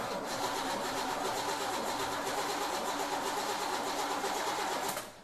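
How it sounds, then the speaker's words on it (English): A 1981 Chevy Camaro engine cranks over steadily on the starter for about five seconds, a loud, even, rapid churning that cuts off abruptly at the end, with no voices. "Go ahead and crank it a little more"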